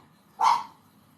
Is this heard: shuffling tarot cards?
no